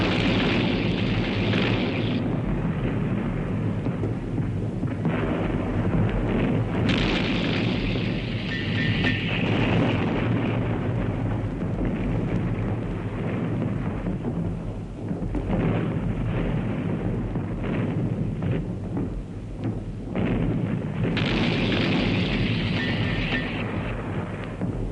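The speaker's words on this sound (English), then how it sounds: "The Italian trenches, dugouts and shelters were overwhelmed in a hurricane of fire." World War I artillery bombardment of Italian trenches, dugouts and shelters: continuous deep rumbling booms and explosions rolling on without pause, dense and heavy throughout.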